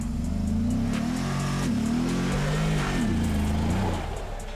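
An SUV with a high center of mass accelerates at full throttle, its engine roaring loudly and continuously as the revs climb, dip and climb again, close and alone.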